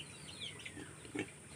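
A pig kept on a rural farm gives a couple of faint, short grunts about half a second apart in a quiet outdoor setting.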